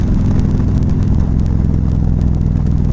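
A 2017 Harley-Davidson Street Glide Special is ridden at highway speed on a ring road: a loud, continuous low engine rumble blended with rushing wind noise, close and steady throughout.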